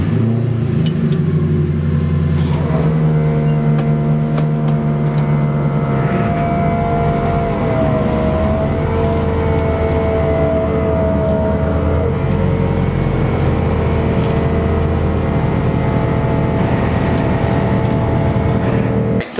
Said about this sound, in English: Pull out the truck.